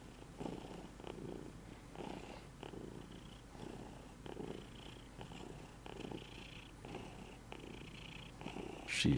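A contented house cat purrs close to the microphone, a soft, steady rhythmic rumble with regular breaths, quiet and alone until a brief bump at the end.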